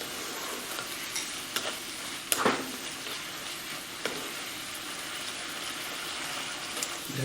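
Oyster mushrooms and young ginger stir-fried in a pan, a soft continuous sizzle broken by several sharp scrapes and knocks of a spatula being tossed and stirred.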